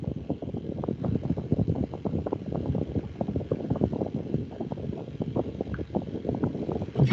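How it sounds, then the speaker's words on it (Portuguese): An electric fan blows straight into a microphone, producing a continuous, irregular low rumbling buffet of wind noise, close and fairly loud, with no speech. "Não, é o meu ventilador mesmo, viu? Na minha cara."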